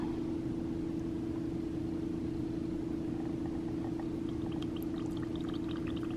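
Fizzing liquid in a homemade gender prediction test, a steady soft hiss of bubbles with faint crackling pops building near the end, heard alone over a constant low hum.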